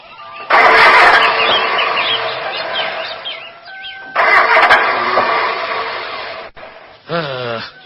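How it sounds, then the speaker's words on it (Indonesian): A car engine cranks without catching in two long, loud, grinding bursts with a short gap between them, then gives one brief final crank. "Mau dipakai nyari duit, mendadak mesinnya jadi ngadat begini."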